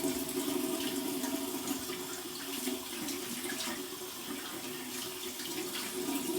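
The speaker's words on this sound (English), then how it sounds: "We're going to go over to my cold water rinse." A bathroom tap runs steadily for a cold-water face rinse after a shave with an adjustable safety razor, a continuous close splashing rush with no speech.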